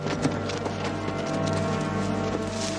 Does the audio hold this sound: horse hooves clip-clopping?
yes